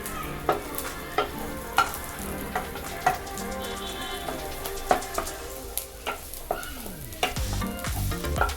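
Macaroni ingredients fry in a home pan while a spatula stirs them with regular clacks and scrapes over a constant close sizzle; nobody speaks.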